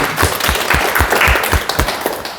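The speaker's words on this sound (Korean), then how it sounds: "큰 박수 부탁드립니다." A crowd applauding, dense overlapping claps with steady loudness throughout, fairly close.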